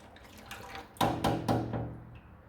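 Olive oil is poured into a container during cold-process soap making, giving a few short splashy glugs and trickles at close range in a quiet room.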